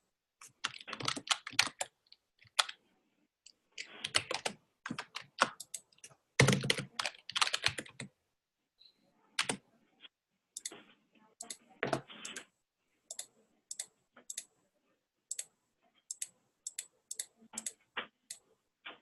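Someone types on a computer keyboard, sending out quiet, close clusters of rapid key clicks in irregular bursts with short pauses between them, with no voices.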